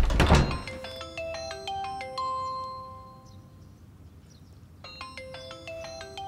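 A mobile phone in a hospital rings with a repeating melodic chime, a loud burst of tones, a pause, then the tune starts again, no talk.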